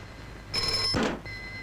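A telephone rings once in a short electronic trill, fairly quiet, followed by a softer continuing tone.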